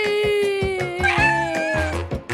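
A kitten meows in a yard, a run of several close, loud, plaintive mews in quick succession, high and wavering, with no talk over them.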